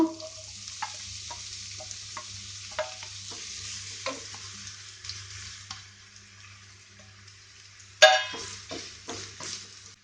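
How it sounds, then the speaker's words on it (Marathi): Onion fries in hot oil for an okra bhaji, a faint background sizzle broken by frequent close spatula scrapes and taps against the pan, with one louder clatter partway through. "तेल तापले तशें तातूंत आमी घालुया कांदो"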